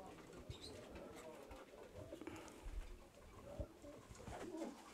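Racing pigeons coo softly and repeatedly in a loft, a faint, low, rolling murmur of several birds with some quiet background voices.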